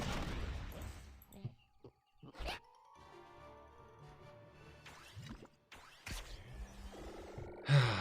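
Rapid Gatling gun bursts in a video game, sharp clustered shots spread through the stretch with bright metallic game effects and jingles between them, loud and close with no talk.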